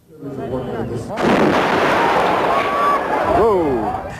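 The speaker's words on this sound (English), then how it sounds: "There has been an explosion in the city of Atlanta." A bomb blast in Centennial Park, Atlanta, during the 1996 Olympics: a loud sudden boom rolls into a long roaring wash of noise, with crowd voices and faint whistling tones through it.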